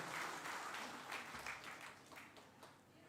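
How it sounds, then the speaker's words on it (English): Audience applause for a guest at a school's 25th anniversary celebration, a dense, fairly faint wash of many hands clapping for about three seconds. "let's all give him a big round of applause"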